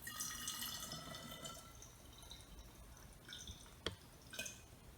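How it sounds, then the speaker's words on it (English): Liquid is poured into a jar for homemade water kefir, giving a soft, faint trickle that thins into a few scattered drips and small splashes near the end. "Then once again, I'm going to add the liquid up to about an inch from the top."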